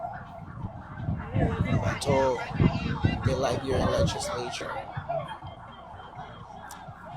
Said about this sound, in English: The sounds of the sirens,